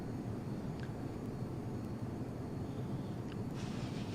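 An F-22 Raptor jet flies low in the FSX flight simulator, its engine a continuous broad roar at moderate level that holds steady throughout, with faint brief clicks and no speech.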